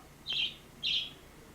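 A pet bird gives two short, high chirps about half a second apart, moderately close, in an otherwise quiet room with no talking.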